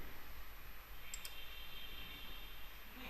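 A computer mouse gives two quick, faint clicks close together against a quiet background hiss.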